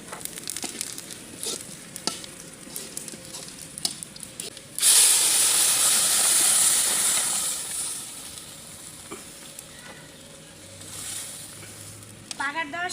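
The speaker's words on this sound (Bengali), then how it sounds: "আমি একটু ফোড়ন দিয়ে দেবো" Spices for a lentil and wild taro leaf mash are dropped into hot oil as tempering, a sudden loud hiss that flares sharply, then slowly dies down after quieter stirring and clinks.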